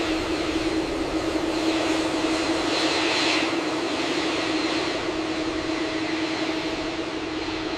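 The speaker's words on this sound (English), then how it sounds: "the Boeing 787 is flying empty, without passengers, as it heads towards its new home base" A steady, loud jet engine drone with a constant hum and broad roar, unbroken throughout, from an empty Boeing 787 airliner in flight.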